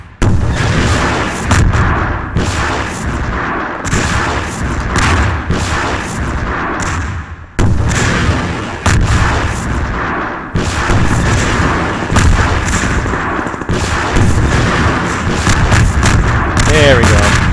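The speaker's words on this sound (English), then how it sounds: "looks like rocket launcher's my best friend here" A rocket launcher fires repeatedly in Half-Life 2: Episode One, with loud booming blasts and explosions following each other at short intervals, dense and close, while someone talks over the action.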